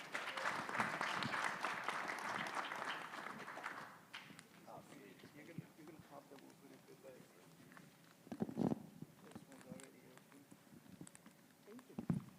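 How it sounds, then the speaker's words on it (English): Audience at an outdoor innovation pitch event applauding for about four seconds, broad and moderately distant, fading into scattered footsteps and talk. "Let's give a big round of applause"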